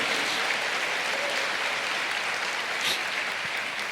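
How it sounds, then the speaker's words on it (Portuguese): A church congregation applauding during worship, a steady, even wash of clapping that holds at a constant level throughout without breaks. "Aplauda o Senhor."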